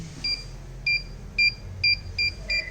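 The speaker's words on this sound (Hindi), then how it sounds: "तो जैसे ही हम कोई दीवार या कुछ आ रहा है तो यहाँ पे बीप सेंस आ जाएगा।" An ultrasonic obstacle-sensing glove for a blind user beeps as it nears a wall: six short, shrill electronic beeps in a steady, evenly spaced series, loud and close against a quiet room hum.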